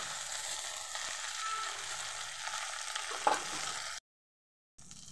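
Okra curry sizzles steadily in a pan while being stirred, a soft, even hiss with an occasional faint scrape, then a brief cut to silence before the sizzle returns.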